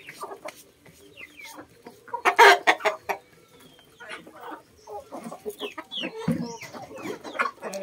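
Heritage chickens cluck and squawk at feeding time, a busy overlapping chorus of near and farther calls with a louder burst of excited cackling partway through.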